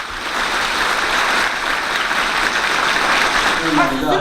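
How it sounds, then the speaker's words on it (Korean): Sustained applause from shareholders at a company general meeting, a dense, even patter of many hands clapping steadily throughout without a break. "이 박수가 진짜 박수인가?"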